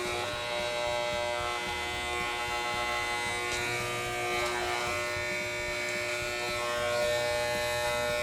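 Electric trimmer buzzing steadily while eyebrows are trimmed in a grooming session, a close, continuous motor whine with slight variations as it moves against the hair growth, no speech.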